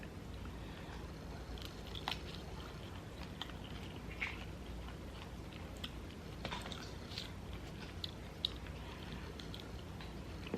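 Someone eats hot, freshly air-fried chicken wings close to the mic, with soft, irregular chewing and biting over a faint steady background hiss.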